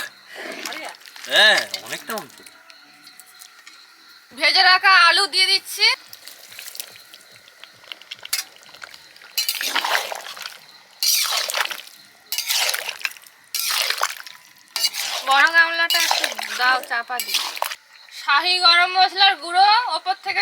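Chicken sizzles and is stirred in a kadai, with bursts of frying and scraping between quieter moments, and a person talks over it now and then.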